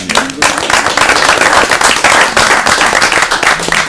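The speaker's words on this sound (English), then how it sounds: "hand clap for that" Board of education meeting audience clapping for a Teacher of the Year finalist: steady, loud applause filling the room for the whole stretch, with a brief voice near the start.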